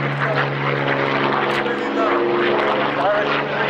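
A Hawker Hurricane with a piston engine and propeller flies past at the Duxford Flying Legends airshow, a loud sustained engine drone with a shifting pitch while an announcer talks over it.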